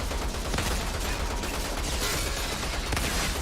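Grenade blasts in the sci-fi shooter Outriders, a dense, loud wall of booming detonations and crackling gunfire-like bursts running continuously with no clear gaps.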